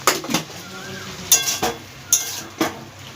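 A large chopped onion and two slit green chillies sizzle in a pan for a snake gourd dish, while a spatula scrapes and clinks against the metal in several loud, close strokes over a steady fry.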